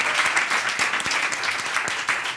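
Audience applause after mention of a U.S. Paralympic team gold medal, a dense steady patter of many hands clapping at close range, filling the whole moment without speech.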